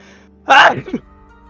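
A single sharp sneeze bursts out, close and loud, with a short breathy tail, heard during a tabletop role-playing game session.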